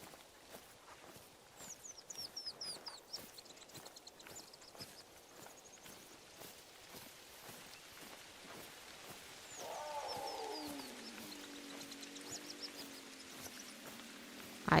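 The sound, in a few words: big cat sounds in the video game TheHunter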